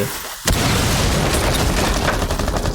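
EMP grenade blast in a Rainbow Six Siege collegiate match, a sudden loud boom after a brief quieter moment, followed by a sustained, noisy roar that stays loud to the end.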